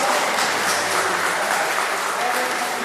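Congregation applauding inside an evangelical church, loud, dense, continuous clapping from many hands filling the room without a break.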